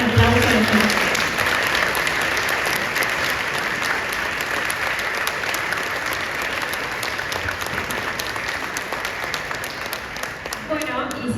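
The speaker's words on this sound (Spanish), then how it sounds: "Les damos un fuerte aplauso a los demás." Sustained audience applause from a crowd at a Spanish-language World Diabetes Day talk, steady and fairly loud throughout before fading out at the end.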